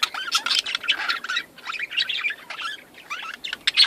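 Caged lovebirds keep up a busy stream of high, overlapping chirps and twitters, close and moderately loud, in irregular bursts with no pauses and no talk.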